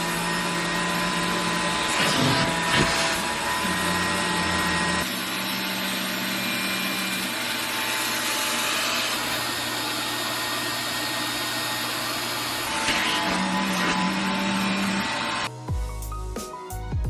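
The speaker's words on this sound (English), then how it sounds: "While we're drying it up and sucking up all the dirty water" A wet vacuum extractor whines steadily and loudly while sucking dirty water out of a used car's carpets, with gurgling slurps and rhythm shifts as the nozzle moves, cutting off near the end.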